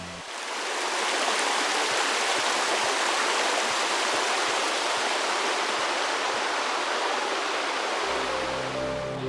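Water pours steadily down a creek spillway at Mill Creek, a loud, constant broadband rush that holds unchanged throughout and is close, with no voices.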